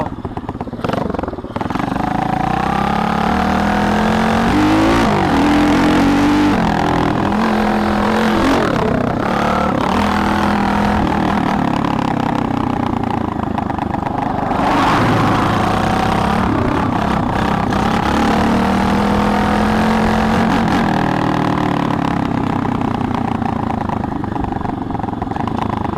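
A Tao Tao DBX1 140cc pit bike engine runs steadily while being ridden, loud and close throughout, with its pitch rising and falling as the throttle opens and eases off.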